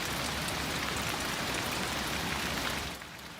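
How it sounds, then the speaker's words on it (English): Steady rain falls on BC's south coast, a dense even hiss of drops on surfaces that holds constant and then softens slightly near the end, with no voices. "after months of dry, warm weather on BC's south coast, it's finally raining"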